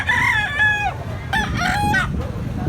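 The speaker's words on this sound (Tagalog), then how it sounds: "Manok ni tatay, gikan sa Mantalongon." A rooster of the Talisayon or red gamecock type from Mantalongon crows loudly and close by, two long calls in a row, with a faint murmur of background noise.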